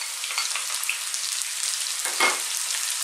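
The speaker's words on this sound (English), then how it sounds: "We're now going to add in our onions" Onions dropped into a hot pan of partly cooked potatoes for a spinach potato curry, giving a steady close sizzle and crackle with a brief louder burst as they hit the oil.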